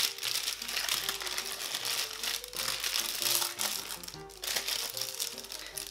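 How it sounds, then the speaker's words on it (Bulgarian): Baking paper crinkles and crackles continuously as it is peeled off a freshly baked Bulgarian kozunak sweet bread, close up over faint background music. "Да махна хартията, в която се пече."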